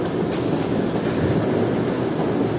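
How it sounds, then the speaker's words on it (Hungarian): A train rumbles loudly and steadily at a Hungarian railway station, with a brief high wheel squeal early on over the continuous rolling noise. "10-esről megy a vonat."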